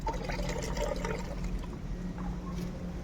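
A mixture of neem oil and shampoo water is strained, a steady close trickle and splash of liquid running through without pause.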